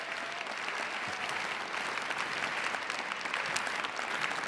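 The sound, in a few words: audience applause at a keynote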